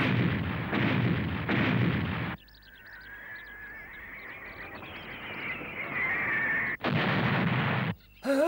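A cartoon Demonik cannon fires in a few heavy booming blasts, followed by a long whistling, warbling tone and then more loud blasts at the end.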